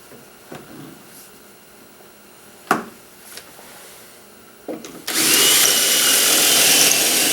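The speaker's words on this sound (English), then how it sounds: "I did it without the vacuum so you can hear the drill working" A drill bores holes in walnut face frame stiles for a custom library: a few faint knocks and clicks, then the tool starts and runs as a loud, steady, hissing whine up close with no talking.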